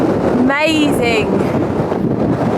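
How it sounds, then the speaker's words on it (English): Strong wind buffets the microphone in the open Scottish Highlands, a steady loud rush throughout, with a brief whistling gust near the start and no clear talking. "It is so windy."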